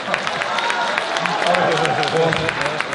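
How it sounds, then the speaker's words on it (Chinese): Concert audience claps together in a warm burst of applause, a dense patter of many hands filling the hall, close and loud, with a voice speaking over it. "上海人要给我给个鼓掌吧"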